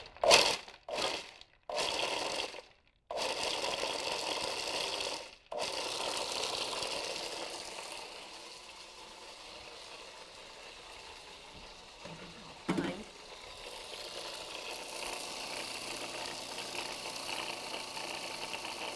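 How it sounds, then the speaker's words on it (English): A food processor grinds dates and nuts in loud whirring bursts that start and stop several times, then a steadier, quieter mechanical hum continues under the kitchen background. "I'm just going to grind this up, just the dates and the nuts real quick right here."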